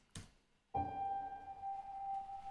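A brief low thump, then a single sustained trailer-style sampled piano note struck and left ringing with a soft, steady decay, quiet and alone.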